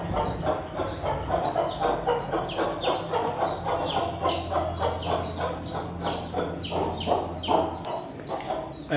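A hen clucks repeatedly in quick, uneven bursts, close and fairly loud, with sharper squawk-like notes mixed in and no talking.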